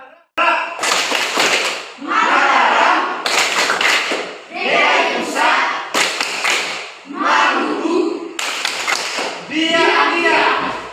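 A school class performs the Tepuk Nusantara clapping chant, rhythmic bursts of group clapping alternating with chanted voices in a steady repeating pattern.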